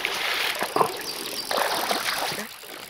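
A small Alaskan stream runs steadily nearby, with a continuous bright rushing and trickling texture and a few louder splashy surges, no voices over it.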